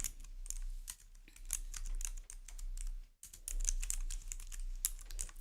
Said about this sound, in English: Y'all hear me typing?